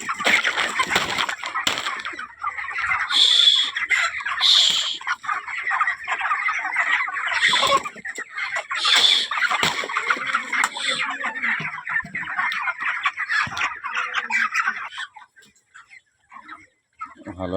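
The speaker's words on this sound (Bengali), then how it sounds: "ভালো আছে মুরগিগুলো, খাচ্ছে" Chickens cluck and squawk in bursts while feeding from dishes in a poultry shed, close and fairly loud, fading to near quiet at the end.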